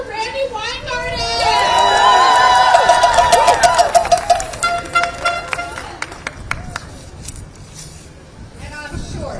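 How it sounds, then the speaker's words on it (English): A protest crowd of Starbucks workers claps and cheers for the teachers' union president, starting with loud shouts and whoops, then settling into rhythmic clapping that fades as the cheering dies down. "Please start clapping for Randy Weingarten"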